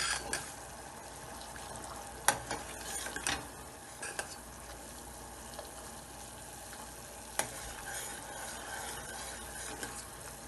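Semolina halwa cooks over full flame while being stirred, making a continuous soft sizzle broken by scraping clicks of the spoon against the pan, close and fairly quiet.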